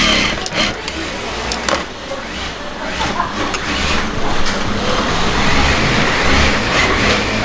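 A German power sewing machine stitches nighties in a wholesale garment workshop, giving a loud, steady mechanical whir with busy factory noise throughout.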